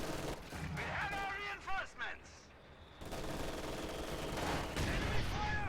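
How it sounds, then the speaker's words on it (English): Mortar blasts and gunfire in a WWII strategy video game crackle in dense bursts against battle noise, with game voices and a commentator talking over them. "Nice mortar right there."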